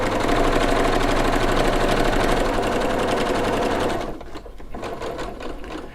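A sewing machine runs fast and steady while stitching a seam on a patchwork pillow, loud and close for about four seconds, then slows into a few separate stitch pulses.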